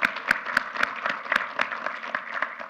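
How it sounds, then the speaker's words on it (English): Applause at a large facilitated meeting as two people are asked to stand, a modest group clapping with some distinct close claps standing out in an uneven rhythm. "Rafael Montalvo and Hal Beardall, please stand up so we can give you a sense of applause."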